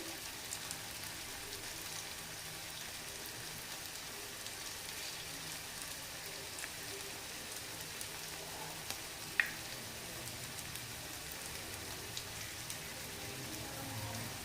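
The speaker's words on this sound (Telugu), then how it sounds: "ఇది రెండు వైపులా కూడా మంచిగా రోస్ట్ అయ్యేలాగా కాల్చుకోండి" Cabbage thikki roasts in a pan, producing a faint, continuous, rain-like sizzle of frying oil that stays steady throughout, with one brief sharp tick midway and no voices.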